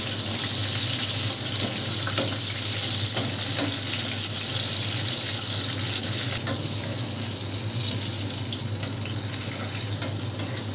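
Eggplant slices fry in hot oil for a Bengali pabda fish curry, giving a steady, close sizzle that holds level throughout with no talking.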